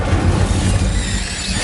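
A fiery Incendio spell bursts from a wand in Hogwarts Legacy, a loud, dense whoosh and crackle of flame with a low rumbling body that runs steadily through the whole moment.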